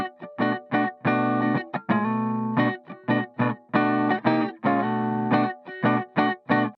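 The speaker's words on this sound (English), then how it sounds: "Let's go ahead and get this compressor cranked up. That's gonna give us our kind of clucky tones." Funk guitar through a PolyEffects Beebo with the compressor cranked plays tight, clucky rhythmic chord stabs, short punchy hits alternating with a few longer held strums, close and clear with no voices.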